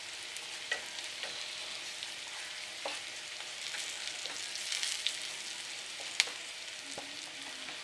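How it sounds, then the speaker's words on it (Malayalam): Crushed chili sizzling and frying in oil in a pan while being stirred, a steady crackling hiss with occasional soft scrapes and taps of the spoon, no voices. "അതിലേക്ക് നമുക്കിത് ചതച്ച മുളക് ഇട്ട് കൊടുക്കാം. അതൊന്ന് ഇളക്കിയെടുക്കാം, ഒന്ന് മൂപ്പിക്കാൻ."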